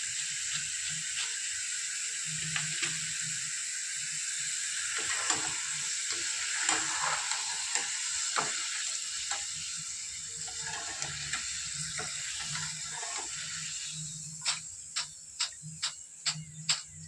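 Potato crisps frying in hot oil give a steady close sizzle, with rhythmic clicks and scrapes of stirring in the pan that grow sharper toward the end.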